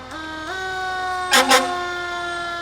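Santa Rosa Fire Department engine 25 sounds its siren during a parade, a steady wailing tone that climbs in two steps, broken by two short loud horn blasts.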